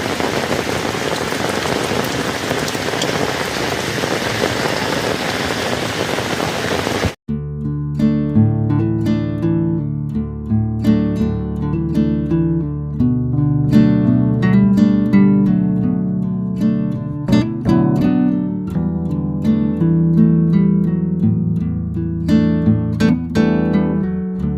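Heavy rain pours down in a steady, dense roar for the first seven seconds, then cuts off abruptly as music takes over for the rest.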